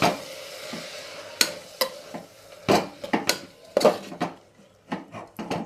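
Dal and spinach being mixed in a pan: irregular scrapes and clacks of a spoon against the metal over a faint sizzle, close by.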